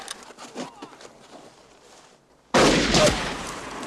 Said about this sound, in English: He ain't even flinched from that gunshot.